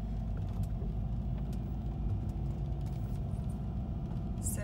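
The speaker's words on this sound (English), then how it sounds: "So here's a car." A car rolls along a street in Stuttgart, a steady low engine and tire rumble heard from inside another vehicle with constant road noise throughout and no clear rise as it nears.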